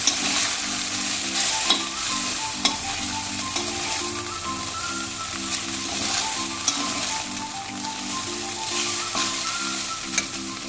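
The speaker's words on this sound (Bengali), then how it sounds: "হালকা নাড়াচাড়া করে নেব।" Egg chicken chow mein being stirred and fried in a pan street-food style, with steady loud sizzling and a regular rhythmic scraping and clacking of the utensil throughout.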